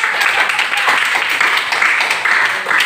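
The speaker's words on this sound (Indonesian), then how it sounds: "Ya, tepuk tangan." A classroom of children clapping their hands in applause, a dense, loud, continuous patter of many claps close by throughout.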